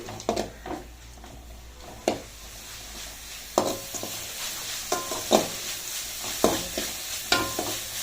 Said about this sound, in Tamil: இந்த தக்காளி பழத்தை போட்டுக்கிறோமுங்க. தக்காளி பழம் போட்டு நல்லா வதங்கின பின்னாடி